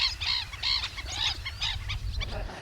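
Birds from a lake calling repeatedly in loud honking, goose-like bursts, several overlapping cries over a steady low rumble of water or wind, with no talk.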